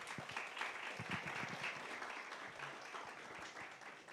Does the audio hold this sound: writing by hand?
no